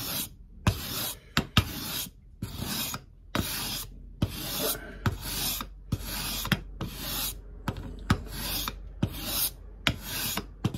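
Fret file crowning the worn frets of a Samick LK-15 BS guitar: steady rhythmic rasping strokes, about one per second, each ending in a sharp click, close up with no talk.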